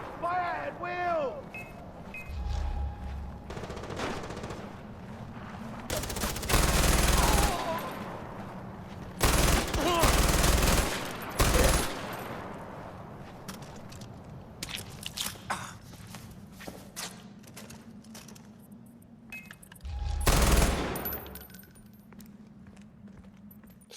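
Machine gun fire in the video game Far Cry 4: several loud bursts of automatic fire, with longer volleys midway and one more near the end, over a low game hum and scattered footsteps.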